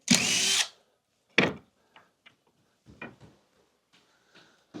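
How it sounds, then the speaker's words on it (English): A power drill backs screws out of a king bed frame during disassembly: one long whirring burst, a second shorter burst, then scattered faint clicks and small knocks of parts being handled, close by in a quiet room. "Next thing I gotta do, unscrew, unscrew"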